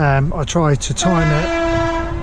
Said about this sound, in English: Whoa, that's a train going past.